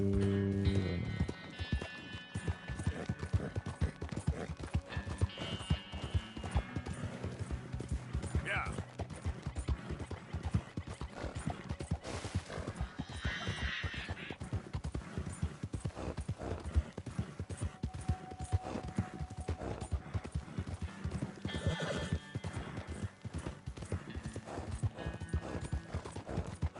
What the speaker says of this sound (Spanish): Ya se cansó mi caballo. Tranquilo, pinche caballo.